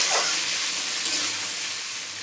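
Chopped carrots, capsicum and beans hit hot white oil in a pan, giving a loud, broad hissing sizzle that stays steady and close, easing slightly toward the end, with no voices.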